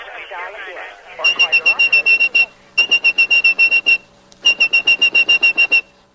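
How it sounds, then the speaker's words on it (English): Whistled tones used to trigger mechanical telephone network switches: three bursts of rapid, evenly pulsed high-pitched whistle beeps, loud and close, following a brief stretch of talk. "like blind phone phreak Joe Ingressia, you could whistle calls through the network"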